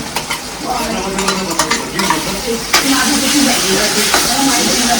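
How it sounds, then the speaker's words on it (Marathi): Green chili chutney is stirred into hot oil for vada pav, sizzling and frying loudly and close, with repeated stirring scrapes of a utensil against the pan throughout. "चटणी अगोदर आपण बनवली होती मिरच्यांची, आता मिक्स केली जाते तेलामध्ये."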